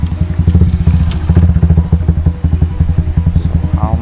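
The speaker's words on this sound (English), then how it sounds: "sorry for the muffling sound of the motorbike." A motorbike engine passes nearby, a loud, steady rumbling putter with a rapid pulsing beat throughout, close and slightly muffled, with no talking over it.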